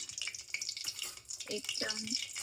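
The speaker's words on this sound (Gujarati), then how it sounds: "તેલ ગરમ થઈ ગયું છે એટલે આપણે આની અંદર 1 ચમચી હિંગ" Asafoetida sizzling in hot oil for Gujarati masala rice, a light crackling fry that rises and falls over a few seconds with faint kitchen clatter.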